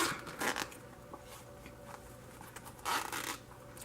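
A zipper slides along a Nintendo 3DS XL zip pouch case with Pokemon detailing on the pull, giving two short close rasping zips with a faint rustle between them and no talk.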